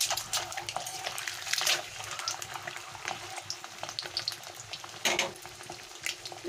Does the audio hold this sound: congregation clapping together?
no